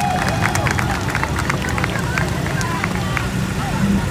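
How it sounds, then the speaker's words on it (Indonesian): A large crowd of university students at an outdoor street protest claps steadily throughout, the clapping blending with loud crowd murmur and background babble. "Kita tepuk tangan,"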